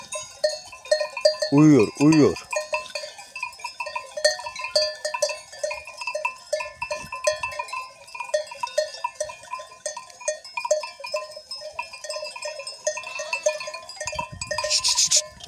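Grazing sheep among goats on a green mountainside, with many small bells clinking and jangling continuously and a loud bleat early on, plus someone speaking briefly near the end.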